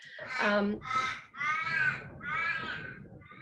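Crows caw outside in Australia, four drawn-out, harsh calls in a row, loud and fairly close, each separated by a brief gap.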